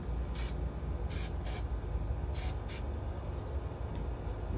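Several short hissing bursts from a cheap black spray paint can, two near the start and two mid-clip, over a steady low background rumble.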